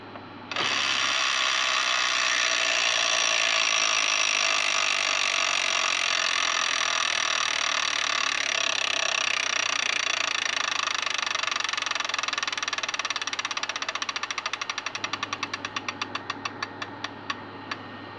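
An electronic tabletop Wheel of Fortune game's wheel spins with a steady whirring buzz for about fifteen seconds, then slows into a run of distinct clicks as it ticks to a stop.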